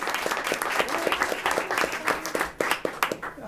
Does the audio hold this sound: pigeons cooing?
no